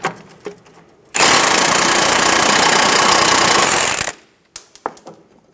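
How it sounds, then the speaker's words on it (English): An 18mm socket spins off a front sway bar link nut on a 2012–2020 Chevrolet Sonic. A loud, steady, buzzing power-tool burst lasts about three seconds, with scattered clanks of tools before and after. "We'll use an 18mm socket to remove the nut."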